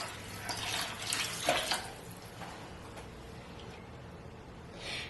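Cold or warm water is poured into a pot of pre-soaked basmati rice, a soft splashing gush that swells early and then trails off into quieter trickling, heard alone and close.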